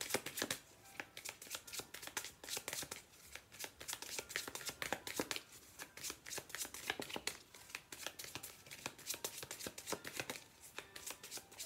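Lenormand fortune-telling cards shuffled by hand in a steady run of crisp, rapid riffling flutters and soft slaps, close and fairly loud throughout, with no talking over it.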